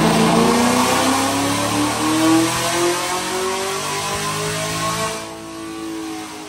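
A 2022 Chevy Camaro SS V8 strains on a dyno during a tune, its loud engine note rising steadily through a long full-throttle pull before cutting back abruptly near the end.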